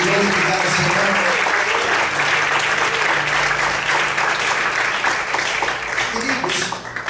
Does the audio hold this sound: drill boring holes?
no